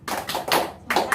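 A group doing rhythmic spirit clapping at the close of a stunting training session, a few quick patterned claps close by, loud and with no talk over them.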